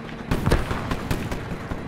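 Explosion in the shooter game Call of Duty: Black Ops 3, a grenade blast heard as a dull boom followed by a run of crackling impacts and rumbling bursts, fairly loud throughout with no speech.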